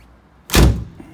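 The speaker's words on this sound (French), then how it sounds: "alors la porte latérale" Sliding side door of a 1986 Chevrolet G20 van, one loud close thunk of the door running along its track and shutting, followed by a faint rattle.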